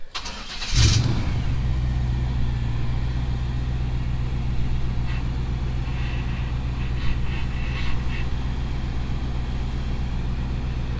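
A two-door Chevrolet Tahoe's engine cranks briefly and fires, then settles into a loud, steady idle with a deep rumble, heard close up with no talking.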